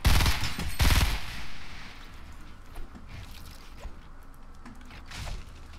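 Loud bursts of gunfire in the video game Fortnite, with two heavy blasts at the start, a quieter shot near the end, and faint mechanical game sounds in between.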